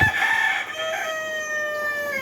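Several chickens cluck and a rooster crows close by at a poultry farm in the evening, drawn-out calls layered over a busy coop background.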